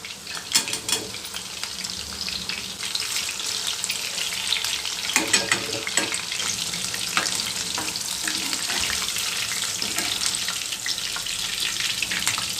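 Garlic kebabs fry steadily in hot oil, a dense continuous sizzle with occasional stirring clinks and brief louder bursts, close up and without talk.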